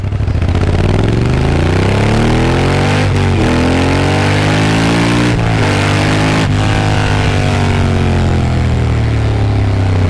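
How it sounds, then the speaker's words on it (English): A Moto Guzzi Stelvio 4V engine revs up loudly with a deep, rising grumble and a few brief throttle dips, heard close and alone for about ten seconds. "The motorcycle has a beautiful grumble down low, and this engine just sounds amazing at all RPMs."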